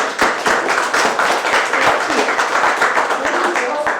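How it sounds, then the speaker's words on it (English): Close, loud applause from an audience after girls dance the Yucatan jarana at a fiesta, with dense, steady hand claps filling the whole stretch. "Let's give the girls a big hand. An applause."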